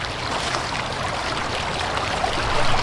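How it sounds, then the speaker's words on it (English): Steady rushing and gurgling of creek water, a constant close wash of sound with no voices. "Hopefully it's not just like creek noise"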